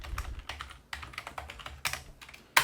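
Quick clatter of keys on a computer keyboard while text is entered into a document, close and clear, in uneven bursts ending with a sharper keystroke, with no talking.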